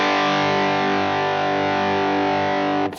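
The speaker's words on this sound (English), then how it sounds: "it just sort of gives you that fatter, more saturated sound without really necessarily being more distorted" An electric guitar played through a fuzz plugin emulating the Safari Pedals Cobra Fuzz sustains one thick, saturated chord at steady loudness for nearly three seconds before it is cut off abruptly.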